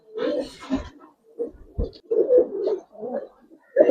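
Several pigeons in a loft coo in a string of deep, throaty, rolling calls, loud and close, separated by short pauses.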